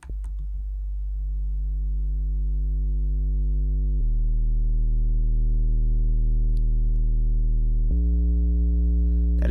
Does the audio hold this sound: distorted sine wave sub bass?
yes